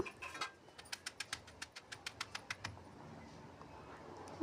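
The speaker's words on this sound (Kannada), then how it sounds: "ಪಾಲಕ್ ಮತ್ತು ಕೊತ್ತಂಬರಿಯನ್ನು ಹಾಕುತ್ತಾ ಇದ್ದೀನಿ ರೀ ನಾ ಇದಕ್ಕೆ ಹಾಕಿ ಎಲ್ಲವನ್ನು ಸಣ್ಣಗೆ ರುಬ್ಬಿಕೊಳ್ಳಿರಿ" Spinach and coriander being ground by hand on a traditional grinding stone, heard as a quick, even series of about a dozen light stone-on-stone clicks, faint and close, then quiet.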